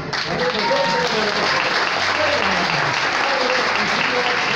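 A crowd applauds loudly at a wrestling event, dense continuous clapping with scattered shouts and voices mixed in throughout.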